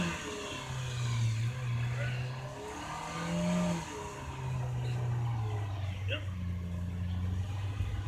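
A car stuck in snow during a New York snowstorm, its engine droning and revving in repeated rising and falling surges, heard at a moderate distance while people talk over it.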